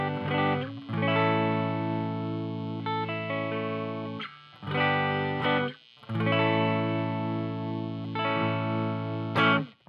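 Electric guitar played through a Wampler Germanium Tumnus Klon-style overdrive set for a clean boost, ringing chords and sustained notes in bursts with brief gaps, loud and close, no talking.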